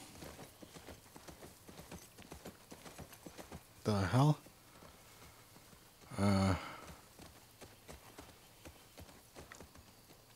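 Horse hooves clip-clop steadily in The Last of Us Part II, with two louder bursts of sound rising over them, and a person talks over the scene.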